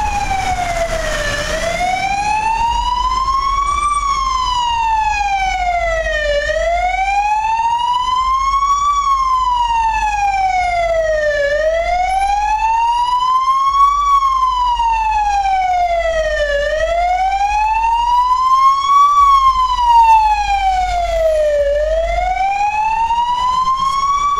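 A loud wailing ambulance siren rises and falls in long, slow sweeps, repeating steadily with nothing else around it.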